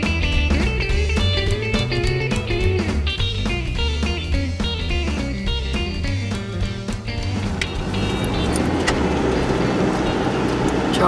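A car drives along a road through the town of Narrabri, its steady engine hum and tyre rumble heard from inside the cabin, with a few clicks early on and a broader road noise building later.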